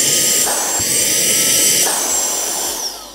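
An Aspiring Windstorm 1 cordless car vacuum cleaner runs on its maximum mode, producing a loud, steady high-pitched motor whine with a strong airflow rush that shifts in pitch briefly and tails off slightly at the end.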